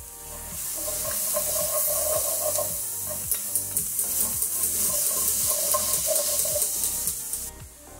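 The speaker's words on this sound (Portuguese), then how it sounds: "E vamos mexendo." Olives being stirred in a frying pan for fried rice, with a steady sizzle underneath and repeated scraping strokes of the spoon against the pan, close and continuous for the whole stretch.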